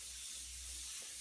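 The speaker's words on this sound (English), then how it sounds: "You want to spray this lightly" A can of white spray paint hisses in a single steady, light burst over a skull stencil, a soft continuous airy spray with no talk.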